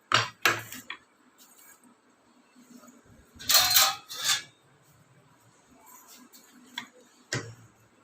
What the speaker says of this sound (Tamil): இப்போது இதை நம்ம வந்து மேஷ் பண்ணிக்கலாம்.